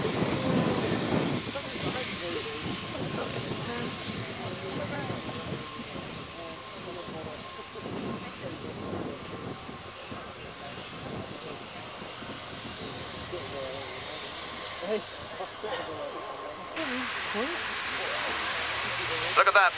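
A C-130J-30 aircraft makes a short takeoff at an air show, its engine roar steady and fairly distant under crowd noise and talk, with a hissing rise near the end.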